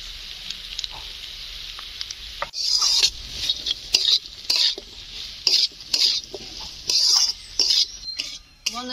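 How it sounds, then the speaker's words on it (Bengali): Fried kudri and potato vegetables with salt, turmeric and chilli powder are stirred in a pan, producing repeated loud scraping and clattering strokes over a soft sizzle, with brief pauses between strokes. "আনাজগুলো ভালো করে নেড়ে নিতে হবে"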